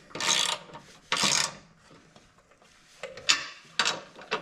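Bolts on an Exmark Vertex X Series mower grass flap are tightened with a ratchet, giving close bursts of rasping clicks separated by short pauses.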